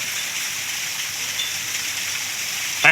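Rain falls beside a mountain waterfall at Phu Thok, a steady, even hiss of water and falling drops with a brief louder splash at the very end, and no voices.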